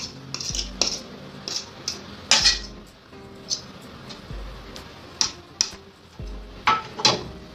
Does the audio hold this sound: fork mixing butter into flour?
yes